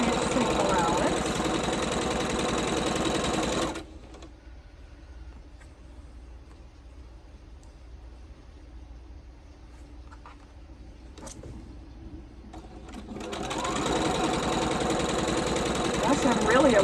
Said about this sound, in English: So instead of sewing down the middle, we're sewing to the left and right at 1/4 of an inch seam allowance.